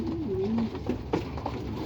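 Racing pigeons cooing in a loft at feeding time, several soft low coos close by, overlapping through the short stretch, no talk.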